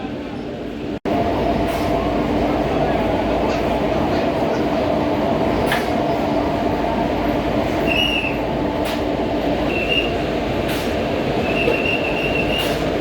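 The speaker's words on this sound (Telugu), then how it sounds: "ఇదే మనల్ని ఈరోజు చెన్నై సెంట్రల్ నుంచి విజయవాడ వరకు తీసుకెళ్లే వ్యాప్ 4 లోకోమోటివ్" A WAP-4 electric locomotive hauling the Pinakini Express at Chennai Central rumbles steadily with a constant loud drone, while faint squeals and clanks from the rail cars come and go.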